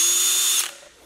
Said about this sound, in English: so I will pre-drill areas which are selected